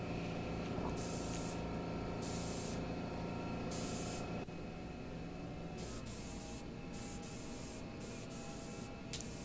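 A spray gun sprays thin primer onto furniture in several hissing bursts of a second or so each, close and clear over a low steady background hum.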